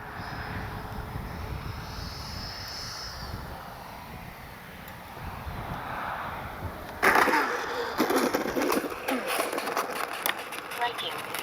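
An FMS J-10 Vigorous Dragon radio-controlled jet plane flying outdoors, its ducted-fan whine steady and fairly distant, with a sudden buffeting of wind noise on the microphone partway through; someone talks over it.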